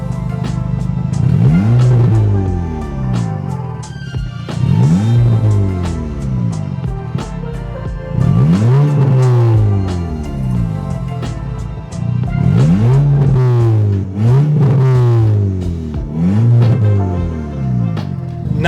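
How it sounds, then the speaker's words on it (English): A salvaged 2012 Volkswagen Golf R MK6 engine revs repeatedly, each loud, close rise and fall sweeping up and down in pitch, with rattles and occasional pops between blips. "now that the engine's warmed up"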